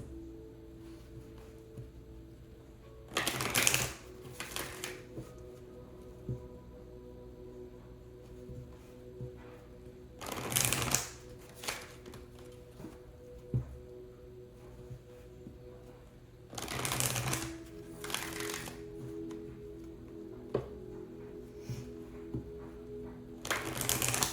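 Tarot cards are shuffled in a quiet room, making short papery riffles that come in three pairs of quick bursts spaced several seconds apart.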